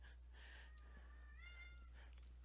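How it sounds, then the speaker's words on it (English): A female cat calling for a mate gives a couple of drawn-out, rising meows, faint and somewhat distant, over a constant low electrical hum in a quiet room. "That's my cat calling for sex."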